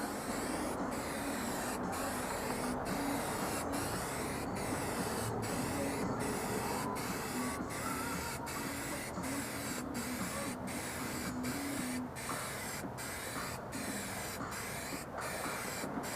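Spray can painting a rusty car fender, a continuous soft aerosol hiss that runs steadily throughout, broken by faint regular clicks, with no talk.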